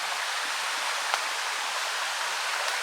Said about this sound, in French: Et on arrive jusqu'à la rivière là. Vous voyez là, vous entendez même.